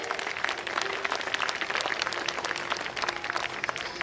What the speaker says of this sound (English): Can we have a big round of applause for the spirit?